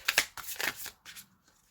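Tarot cards being handled and drawn from a deck, a few quick papery shuffles and slides close by, then quiet.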